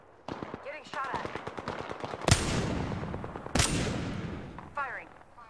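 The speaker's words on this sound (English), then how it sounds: "Getting shot at." Gunfire in the video game Apex Legends: a fast rattling burst of automatic shots, then two sharp loud blasts with decaying tails. A voice speaks through the firing.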